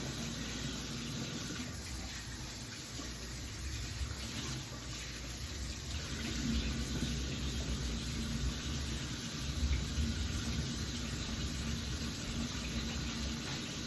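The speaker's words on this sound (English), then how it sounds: "first things first, we must wash our hands" Hands being washed under a running kitchen tap, a steady continuous rush of water close by, alone without talk.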